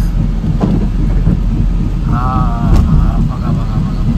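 Heavy monsoon rain pours while a car drives through the Khandala ghat, a steady low rushing roar of rain and road noise, with a brief tonal warble partway through.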